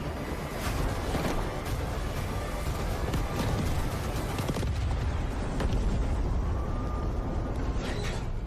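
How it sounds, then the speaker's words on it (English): A hydrogen explosion at a reactor in the Delta Force video game gives a long, loud, rumbling roar that fills the whole stretch with dense, churning noise. "Hydrogen explosion at reactor 2."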